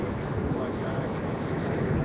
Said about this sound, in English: It is extremely windy.